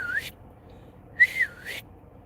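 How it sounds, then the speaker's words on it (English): A person whistles to catch a lady's attention: a short rising note, a pause, then a sharper two-part whistle with a swooping tail, close and clear over a quiet background. "Remember when people used to whistle like this when a guy would whistle when he wanted a lady's attention?"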